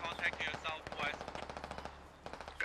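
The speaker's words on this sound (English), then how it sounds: "You hear the gunfire? 240, that's enemy." Sustained bursts of M240 machine gun fire in the tactical shooter game Squad, a rapid rattling stream of shots heard at moderate distance, with radio-style voices faintly underneath.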